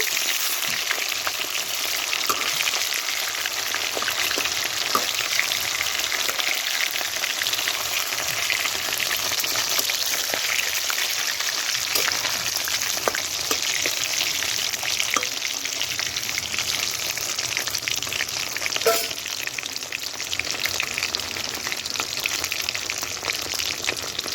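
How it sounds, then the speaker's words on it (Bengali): Pieces of katla fish frying in hot oil in a wok give a steady, dense crackling sizzle that fills the whole stretch, with occasional sharper pops and no voices over it. "কাতলা মাছ আমি কড়ার মধ্যে দিয়ে ভেজে নিচ্ছি"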